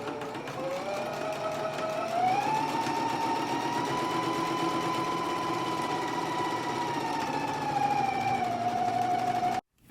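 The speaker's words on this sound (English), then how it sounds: "But I'm gonna go ahead and stitch this down now." A sewing machine runs steadily for nearly ten seconds as it stitches down the fly piece of a skirt, a continuous close whirring hum with a slight rise in pitch partway through, which stops abruptly at the end.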